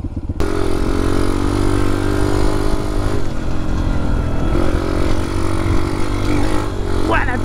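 A Chinese dirt bike engine idles with its idle speed slightly raised, making a loud, steady, close running drone that holds even for the whole stretch, with faint voice-like sounds underneath.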